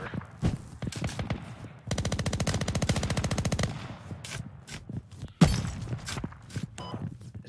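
Sustained machine-gun bursts and scattered rifle shots in the military shooter game Squad, with a long rapid automatic volley in the middle and a sharp loud crack later, fairly close and dense.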